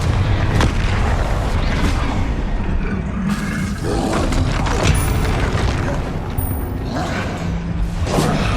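Fire-blast spell explosions from a magic duel in the Hogwarts Legacy video game, dense booming blasts and roaring bursts that stay loud throughout and sit over a continuous rumbling game soundscape.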